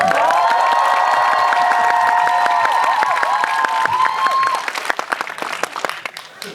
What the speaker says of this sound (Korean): 생각보다 박수와 환호성이 작아서 다시 한번 인사드리겠습니다.